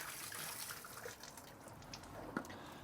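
Rinse water sloshes and gushes out of an emptied motorhome toilet cassette, a faint, uneven pour with small splashes and one sharper splash near the end.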